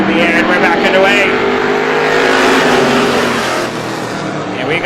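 Loud, continuous roar of Strictly Stock class cars racing at Star Speedway, accelerating together after a green flag, engines droning steadily at close range with a crowd-like wash of noise throughout.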